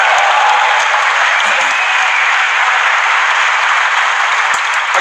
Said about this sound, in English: I'll give some claps for that